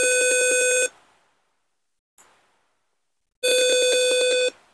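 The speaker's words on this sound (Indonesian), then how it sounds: "maka sensor akan berbunyi, ini piezonya akan berbunyi" A piezo buzzer on an Arduino gas sensor alarm in a Tinkercad simulation sounds a loud, shrill, rapidly pulsing electronic tone in two bursts, with a brief click between them and silence around them.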